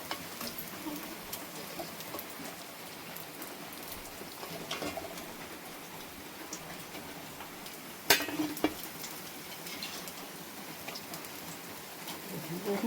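Thekua, a crisp fried sweet dough snack, frying in hot oil gives a steady low crackling sizzle across the whole stretch, with a sharper clatter near the end as the pieces are lifted out.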